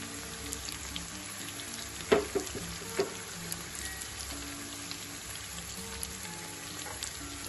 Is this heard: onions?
yes